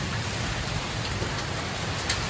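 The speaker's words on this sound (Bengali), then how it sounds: "বৃষ্টি আরম্ভ হয়ে গেছে" Steady rain falls during a storm with wind and hail, a constant hiss with faint scattered drops pattering close by, and no one talking.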